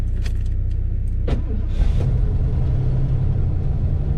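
A 4x4 RV's engine cranks with a couple of clicks and a brief starter whir, then catches into a loud, steady idle rumble close by.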